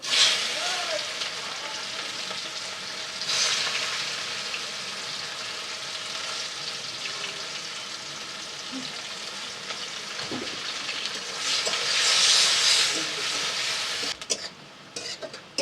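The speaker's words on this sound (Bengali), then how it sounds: "দিয়ে দিচ্ছি কুচিয়ে রাখা পেঁয়াজ।" Chopped onions with sugar and whole garam masala frying in a kadai of oil, giving a continuous moderate sizzle with stirring scrapes and occasional spatter swells throughout.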